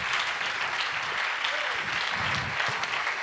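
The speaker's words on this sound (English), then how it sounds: "please keep clapping until I stop you" A church congregation claps continuously at a ministry graduation ceremony, a dense, even wash of applause from a large crowd, with faint voices under the clapping.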